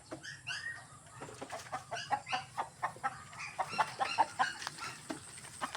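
Several native chickens cluck close by at feeding time in irregular bursts, short repeated calls overlapping against a quiet background.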